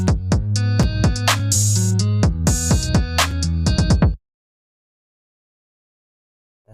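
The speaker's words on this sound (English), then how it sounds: "For that, I just add this trap drums." Trap drum pattern programmed in FL Studio, with punchy booming kicks, crisp claps and rapid hi-hat rolls in a dense, loud loop that cuts off abruptly into silence.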